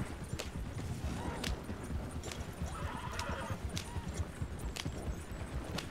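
A horse trots with a steady clip-clop of hooves in the Red Dead Redemption video game, the rhythmic beat continuing throughout, with a whinny breaking in and a distant sharp crack or two.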